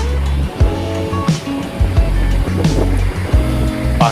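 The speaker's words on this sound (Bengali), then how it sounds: "সমুদ্রের জলটা এসে ধাক্কা খাচ্ছে এই বাউন্ডারি ওয়ালে" Sea waves surge and crash against a beach boundary wall at Mandarmani, heavy rushing water close and loud, with repeated sharp thuds and splashes over a constant roar.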